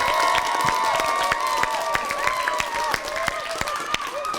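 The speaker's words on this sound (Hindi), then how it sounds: "तालियां बजाएं" Steady applause and cheering from a crowd at a children's TV game show, dense clapping with scattered shouts running throughout.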